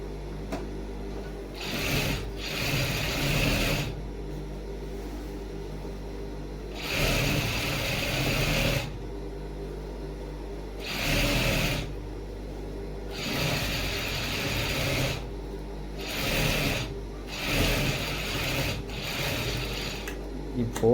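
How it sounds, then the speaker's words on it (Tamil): A sewing machine stitches a second line over a shirt sleeve seam in short repeated bursts, whirring on and off several times at close range with quiet pauses between. "இது மேலேயே இன்னொரு தையல் போடணும்."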